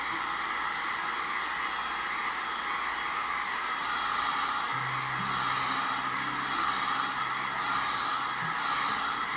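A hair dryer runs continuously to dry freshly decorated sugar cookies, a steady close rushing hiss with a low motor hum that barely changes.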